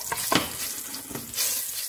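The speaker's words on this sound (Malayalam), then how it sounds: "എണ്ണ ചൂടാകുമ്പോൾ നമുക്ക് നമ്മൾ പൊടിച്ച് വെച്ചിരിക്കുന്ന നമ്മുടെ ജീരകത്തിൻ്റെ പൊടി ഇട്ട് കൊടുക്കാം" Ground cumin powder hits hot oil in a pan for Punjabi chicken curry, giving a close, crackling sizzle with a few sharper bursts as it is stirred, and no talk.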